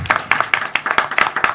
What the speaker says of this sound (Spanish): un gran aplauso para ellas